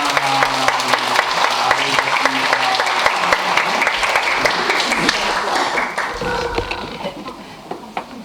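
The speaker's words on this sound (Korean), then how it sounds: "뜨겁게 박수로 환영하겠습니다" A church congregation applauds steadily, the clapping close and sustained before thinning out toward the end.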